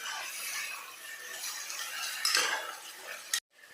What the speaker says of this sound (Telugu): దీనిని కొద్దిగా మిక్స్ చేసుకుందాము.